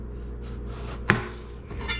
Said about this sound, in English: I'm going to start by cutting up my tomato